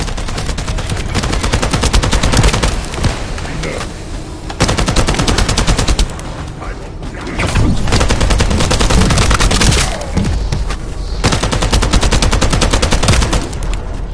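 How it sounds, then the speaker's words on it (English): Gunfire in the video game The First Descendant: dense, sustained automatic bursts of rapid shots, loud and close, with brief lulls between volleys and no talk over them. "That stopped the gunfire."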